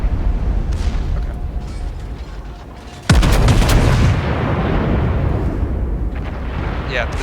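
Naval secondary guns firing in World of Warships, one sharp loud blast after a stretch of low rumbling ambience, followed by a dense roaring, crackling wash that lingers for several seconds.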